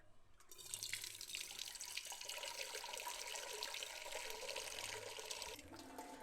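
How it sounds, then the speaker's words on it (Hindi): Water runs steadily from a tap into a cooking pot (degchi) for about five seconds, a bright continuous splashing that starts abruptly and tapers off at the end, with no talking. "हमने देचकी में पानी डाला है और इसको चूल्हे पे चढ़ा देंगे।"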